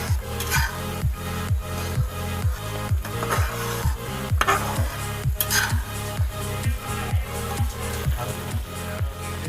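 A spoon stirs sauce in a pan for chilli paneer with a steady, rhythmic scraping as liquid is poured in slowly, close and moderately loud with faint sizzling beneath.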